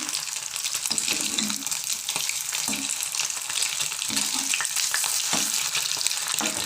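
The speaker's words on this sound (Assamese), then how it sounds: "মাছ আৰু পিঁয়াজো মই এখন কেৰাহীতে ভাজিলোঁ" Flour-dipped fish pieces fry in hot oil in a kadai, giving a steady close hiss and bubbling with intermittent louder spits and scrapes of stirring, no talking.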